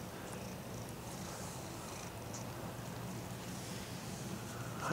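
A cat purrs in a steady, continuous low rumble close by, holding an even level throughout with no talking.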